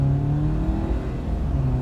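Jeep Wrangler Rubicon engine heard from the cabin while driving on an ordinary road, a steady low hum with mild road noise, close and continuous.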